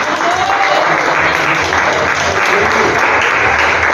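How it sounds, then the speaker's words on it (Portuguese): Church congregation at a Sunday family service applauding loudly and steadily, a dense, continuous wash of clapping that fills the hall without pause. "Aplauda bem alto para o nosso Senhor Jesus."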